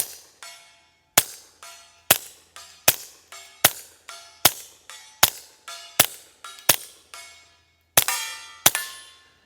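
Suppressed .22 rimfire shots from an FN 502 pistol loaded with CCI Clean Suppressor ammunition, eleven sharp cracks fired at a steady pace, each followed by a short decaying ring, close and loud with no talking.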